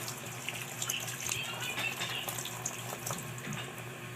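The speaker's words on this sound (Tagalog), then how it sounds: "Natutunan nyo na kung paano maghugas ng kamay" Water runs steadily from a tap into a sink during handwashing, a continuous close hiss and splash with small fluctuations and no talking over it.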